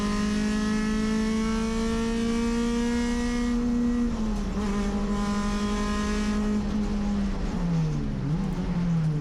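An Acura RSX race car at Sonoma Raceway, its engine droning loudly and steadily at high revs, with a shift dip partway and another car's engine mixing in.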